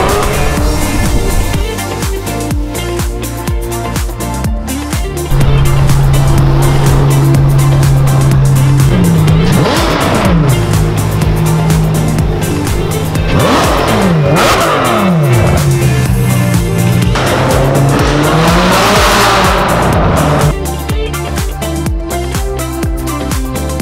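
Ferrari F12 with an aftermarket exhaust on the streets of Monaco, a loud, sustained engine note with rising and falling revs that sweeps past, steady and close throughout.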